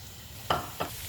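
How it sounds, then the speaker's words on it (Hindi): Two quick bursts of sizzling as garlic hits hot oil, the first louder, over a low steady background hum. "लहसुन को हम गोल्डन फ्राई करेंगे।"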